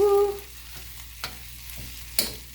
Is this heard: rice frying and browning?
yes